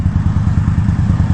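A 2021 Indian Scout Bobber Twenty motorcycle engine throbs with a loud, steady low rumble and an even pulsing beat, close by, with no voices.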